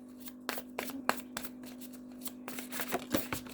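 A deck of oracle cards is riffled and shuffled close up in quick, uneven bursts of crisp flicks and slaps, with a faint steady hum behind.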